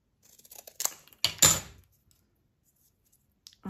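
Scissors snip through a piece of thin cereal-box cardboard, giving a few short crisp cuts followed by one longer, louder slice, then quiet with a faint click at the end.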